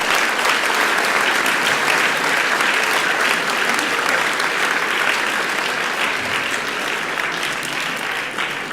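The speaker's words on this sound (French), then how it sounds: "Et je crois que vous pouvez leur faire un tonnerre d'applaudissements." Loud, continuous applause rolls through a hall from a large audience, dense and unbroken for several seconds before easing slightly toward the end.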